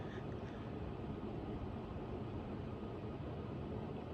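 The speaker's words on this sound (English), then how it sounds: "So this fan goes about maybe 210, 220 RPM on high." An Antica ceiling fan with a light kit runs on high, giving a steady, close, broadband whoosh of moving air that holds evenly throughout with no talking.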